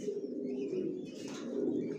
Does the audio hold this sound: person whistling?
no